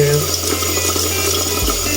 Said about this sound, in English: I am going to get the warm water running